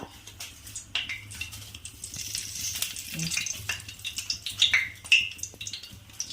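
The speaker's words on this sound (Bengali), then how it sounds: "এই যে শুকনো লঙ্কা, তেজপাতা ফোড়ন দিলাম" Dried red chilies and bay leaves sizzle in hot oil, a soft, steady crackle broken by scattered sharp pops, fairly quiet with no voices.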